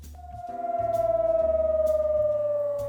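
A steady wailing siren rises and holds its tone through the night near the Brnjac and Jarinje crossings on the Kosovo–Serbia border, pulsing slightly, with a low rumble beneath it; it sounds distant but loud.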